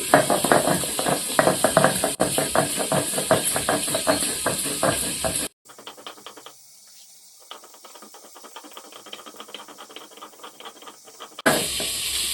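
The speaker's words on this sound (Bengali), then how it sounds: "এদিকে যে ভাজা মশলাগুলো আমি গুঁড়ো করে নিচ্ছি" Roasted spices are ground to powder in an electric grinder, a loud, close rattling whir in bursts separated by a quieter stretch, with a final burst at the end.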